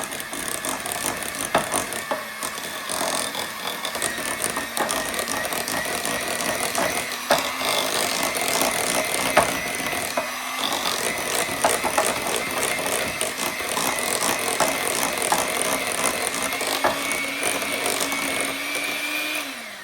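An electric mixer whirs steadily and close for the whole stretch, beating softened butter until fluffy for a blueberry cream cheese coffee cake, its pitch wavering slightly as it works.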